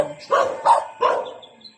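Three loud dog barks in quick succession, close by, evenly spaced, with a short quiet pause after.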